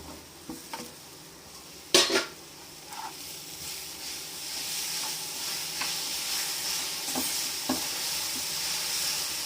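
Grated coconut being stirred into hot sugar syrup in a pan for festival kozhukattai: a clattering knock of spoon on metal, then a steady soft sizzle with scraping strokes and light taps.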